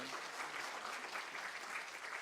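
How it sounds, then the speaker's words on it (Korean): Steady applause from an audience welcoming a pastor to the stage at a church family seminar, sustained and fairly faint throughout with no voices over it. "우리 목사님 나오실 때 큰 박수로 우리 환영하고 맞이하겠습니다"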